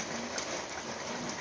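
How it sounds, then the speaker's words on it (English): Steady rain falling outdoors on a winter day in Africa, a continuous soft hiss of drops on surfaces, moderately close and even throughout with no talking. "Just ignore the water that's falling out of the sky there in the background"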